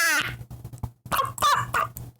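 Agitated clucking from a few hens, loud and close, in short bursts with brief pauses, mixed with some squawks.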